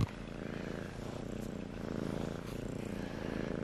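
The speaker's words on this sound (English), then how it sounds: "Oh, listen to those purrs." A Ragdoll kitten purrs close by, a low rhythmic rumble that continues steadily throughout.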